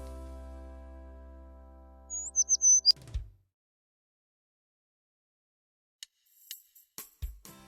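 A few quick, high bird chirps come in a short cluster after a low, steady hum, then near silence, then faint scattered clicks and taps near the end.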